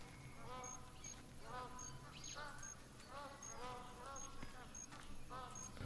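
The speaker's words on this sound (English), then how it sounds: "They're magpie geese, I think they are flying over" Magpie geese in theHunter Classic honk in repeated nasal calls overhead in a wetland soundscape with buzzing insects, moderately close and fairly faint, the calls coming in clusters every second or so.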